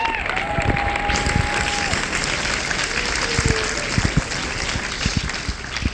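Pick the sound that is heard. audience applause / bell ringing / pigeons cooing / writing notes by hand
audience applause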